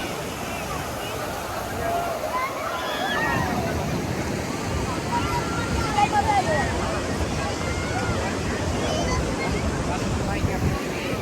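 Waves wash steadily onto a beach in Goa, a continuous broadband surf roar with gusty wind buffeting the microphone and faint voices in the background.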